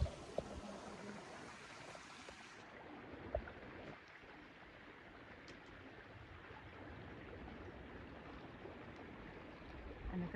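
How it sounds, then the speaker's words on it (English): A mountain creek along the Pacific Crest Trail near Mission Creek flows steadily and close by, a continuous broadband rushing wash with a few faint knocks, no talking. "I'm right next to this amazing creek."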